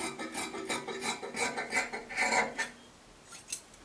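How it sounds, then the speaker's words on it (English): Scissors cut through dress fabric along the front neckline of a drape cowl kaftan, a quick series of close, rasping snips in an even rhythm that trails off into quiet. "So I'll cut out the front neckline."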